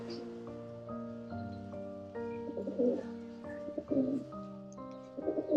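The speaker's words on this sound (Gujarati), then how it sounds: "બસ હવે અહીં રહે છે તો ફક્ત કબૂતર" Pigeons coo softly in repeated low, throaty phrases, close by among old havelis in Kapadvanj, Gujarat, with a faint hum and light rustling in the background.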